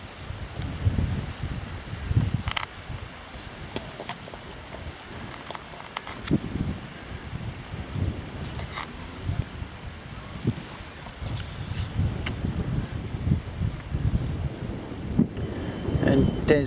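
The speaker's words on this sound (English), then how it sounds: "I hope you can hear me over this wind." Steady gusting wind buffets the microphone at a riverside harbour in Tayport, with low rumbling blasts rising and falling throughout and a faint watery wash beneath.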